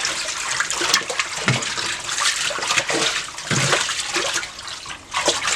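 Tap water pouring into a basin to wash alpaca fiber, a steady loud splashing rush with gurgling surges and no talking.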